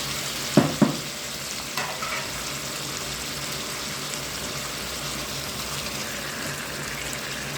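Chopped onion, potato and tomato go into hot ghee and fry with a steady, dense sizzle. A couple of sharp clatters from stirring sound near the start. No one speaks.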